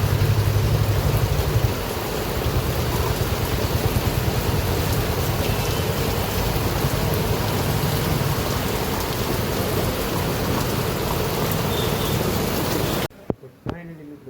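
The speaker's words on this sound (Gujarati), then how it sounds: "આપણે ફૂલ વરસાદ આવે છે." Heavy rain pours steadily at the Alang shipbreaking yard, a loud unbroken hiss and patter of drops on surfaces, cutting off abruptly near the end into brief handling noises.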